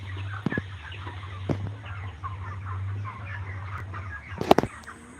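A flock of 37-day-old broiler chickens in a poultry shed clucks softly and continuously, a low murmuring chorus with a few sharper calls, over a steady low mechanical hum and occasional knocks.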